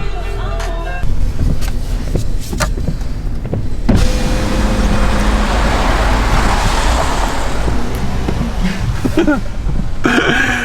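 BMW 330i accelerating hard on a wet road during a rolling race, with loud broadband tyre spray and road roar that swells after a few seconds and holds steady, over a low engine drone.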